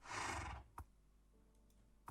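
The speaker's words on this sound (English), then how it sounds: "I'm going to get my horse." A horse in Minecraft gives one short breathy neigh, fairly close and alone, followed by a faint thud and near silence.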